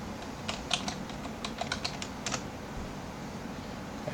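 A password is typed on a computer keyboard: a quick, uneven run of close key clicks over a steady background hum, with no talk.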